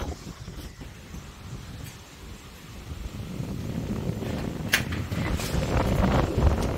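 Strong typhoon winds from Typhoon Uwan roar and buffet the microphone, a low rumbling gust that builds steadily louder over several seconds with occasional sharper bursts.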